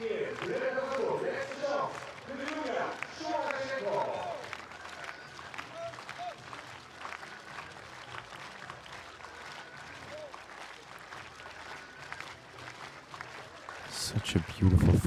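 A stadium crowd at an athletics meeting in Rehlingen, Germany claps along for a Ukrainian high jumper, a steady, dense wash of applause throughout with commentary voices over the first few seconds.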